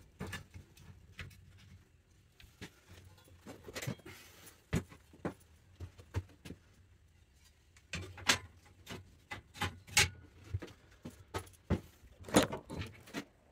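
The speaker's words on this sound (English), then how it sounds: "I'm just going to clamp this on." Metal clamp being fitted and tightened onto a wind generator frame built around a 3kW e-bike hub motor, a run of sharp clicks, taps and jangling metal knocks, close and irregular, with no talk.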